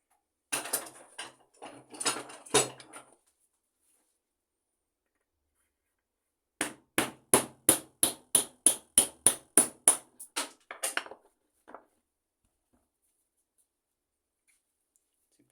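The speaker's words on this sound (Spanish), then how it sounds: "Vamos a buscar la asistencia de otro martillo." A hammer taps on metal while tools are cleaned of leftover wood, first an irregular cluster of blows, then after a pause a steady run of about a dozen evenly spaced sharp strikes, close and alone.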